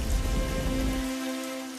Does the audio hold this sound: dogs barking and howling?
no